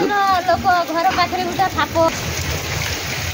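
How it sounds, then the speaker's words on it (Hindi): Heavy rain pours down on a village, a steady broadband wash of falling water that runs continuously through the clip, with someone talking over it for the first couple of seconds before the downpour carries on alone. "आज वर्षा है बहुत दिन पर"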